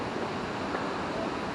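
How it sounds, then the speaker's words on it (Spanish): Steady broadband rushing of a river flowing near a hiking trail at Coo, Belgium, close to a waterfall; a constant, fairly loud wash with no breaks and no voices. "Ya lo están oyendo, ese es el río."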